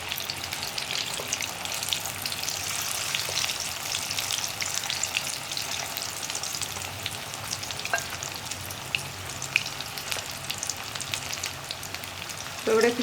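Cauliflower 65 (gobi) pieces frying in hot oil, a steady dense sizzle running throughout with occasional crackles and a louder stir near the end, no talking.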